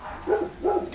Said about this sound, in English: My dogs are going crazy out there